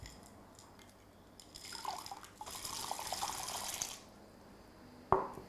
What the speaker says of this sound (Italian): Li metto nella ciotola d'acqua dove staranno per 24 ore.